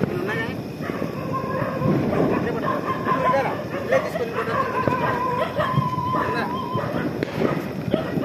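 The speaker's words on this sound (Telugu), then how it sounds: "అదే కుక్కలేమో విపరీతంగా వస్తున్నాయరా." Dogs bark during Diwali festivities, their intermittent yaps mixed into a steady wash of people talking and background commotion.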